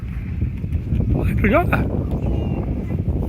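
Strong wind roars steadily at an outdoor spot where a kite is flown, a thick constant rush of buffeting across the whole moment, with a short voice heard briefly over it.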